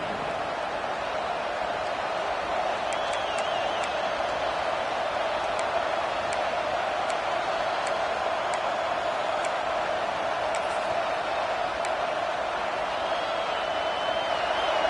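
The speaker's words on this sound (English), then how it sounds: "the crowd really making some noise now, trying to help out this defense to get this stop near the goal line" A dense, steady stadium crowd roar during a Michigan vs TCU football game, urging the defense near the goal line, holding at the same loud level throughout, with scattered faint ticks over the noise.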